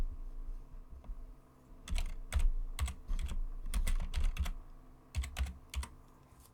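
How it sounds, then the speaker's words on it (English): Keys clatter on a computer keyboard while a group title is typed, in several quick bursts of clicks with short pauses between, close and fairly clear with no talking. "And I can type a title in here now."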